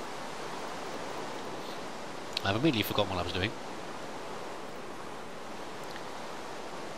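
Steady rain hisses across the whole scene in Minecraft, a constant broadband wash outdoors, with a voice briefly talking over it partway through.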